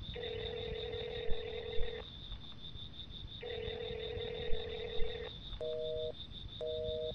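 A phone rings out unanswered, two long warbling rings separated by pauses and then two shorter tone bursts, heard clearly against a faint hum with no one speaking.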